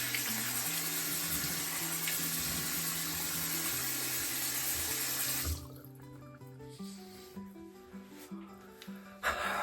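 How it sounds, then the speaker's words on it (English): Cold water runs from a bathroom tap for several seconds as a steady hissing splash, then cuts off, leaving faint drips and soft clatter. "cold water."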